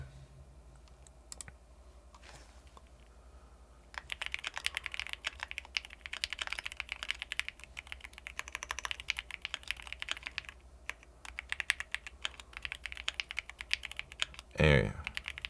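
Fast, steady typing on a computer keyboard during a typing race, with dense rapid clicks that start quietly and turn loud and continuous after a few seconds. A brief thump comes near the end.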